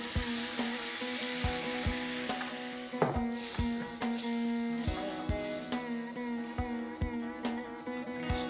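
Spices and gravy sizzle softly in a kadai while a spoon scrapes and taps against the pan in a regular rhythm, close and fairly quiet.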